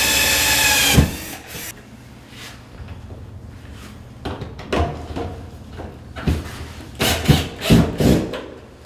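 A power drill with a Phillips bit whirs in several short bursts, driving screws into sheetrock with scraping, rubbing handling noises between runs; no talking.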